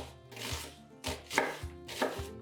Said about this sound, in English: Chop 1 medium to large sweet yellow onion.